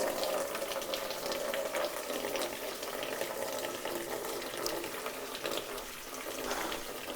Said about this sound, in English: The radiator is going to be coming out, so obviously it has to be drained as part of that process